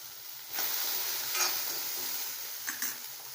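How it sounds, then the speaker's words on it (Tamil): Small halved onions sautéing in a little oil in a pan for chicken curry, a close steady sizzle broken by a few scraping stirs. "இப்போ இந்த சட்டியிலேயே நம்ம வெங்காயத்தையும் சேர்த்துக்கலாம்"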